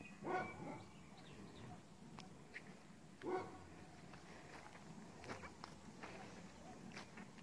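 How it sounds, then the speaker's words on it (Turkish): A dog barks twice, once near the start and again about three seconds later, moderately close, over steady outdoor rustling and footsteps during a walk around Çınarcık. "Toros abi havlamaya başladı hadi."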